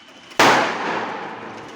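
A Diwali firecracker bursting during rain: one sudden loud bang over the steady patter of rain, followed by a long fading echo that trails off under the rainfall.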